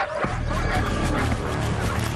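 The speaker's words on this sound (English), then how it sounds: "So the dogs, about the size of a Doberman, take to the field in numbers and tag team the errant hyena." African wild dogs yipping and barking while ganging up on a hyena in the wild: a loud, continuous chorus of overlapping yips and whimpers from a close pack, with no clear pause.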